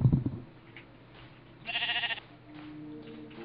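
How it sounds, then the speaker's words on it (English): A Minecraft sheep bleats once in a short wavering call midway, fairly faint against a quiet background with a soft thump at the start and a low hum later. "Look at the sheep."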